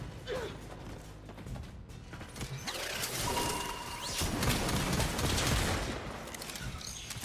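Turrets fire in the game Warframe, quiet rapid mechanical bursts and rattling clicks that thicken and grow denser over several seconds, set against a busy game soundscape.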